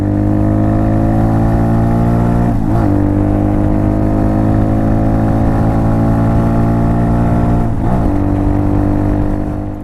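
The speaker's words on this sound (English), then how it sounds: "Still the stock exhaust." Hawk DLX 250 motorcycle on its stock exhaust, riding with a steady, loud engine drone and two brief rev changes as the throttle shifts, heard up close without any talk.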